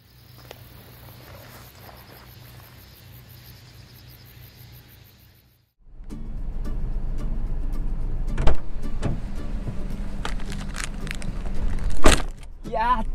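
A car door opened beside rice fields on an early-autumn day: quiet cabin hush gives way to a sudden rush of outdoor ambience with insects and clicks, and someone talks afterward.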